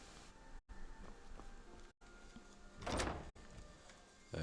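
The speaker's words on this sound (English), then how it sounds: "I need to open up this door from the other side." A door opening in Skyrim, a short soft scraping slide rising to a brief swell near the end of a quiet passage, followed by a dull thunk, with faint background ambience and no voices.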